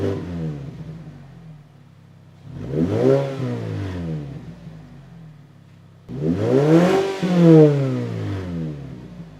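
A Mazda 3 on its stock exhaust, before a Corksport midpipe and Borla axle-back, revs twice. Each rise is a loud, close, throaty blip lasting roughly two seconds, settling back to a steady idle in between.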